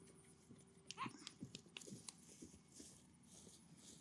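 Horses on the move, with soft, quick hoofbeats clip-clopping at a distance over a busy outdoor background and a faint whinny-like call.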